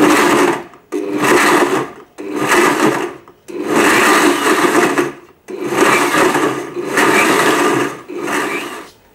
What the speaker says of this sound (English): you want to mix this and puree it and blend it until it's pretty smooth. So the best option for this is probably to pulse